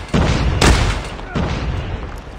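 Call of Duty gameplay delivers heavy gunshots and explosive booms: a loud blast, a second sharper bang, then another thump, all close and punchy.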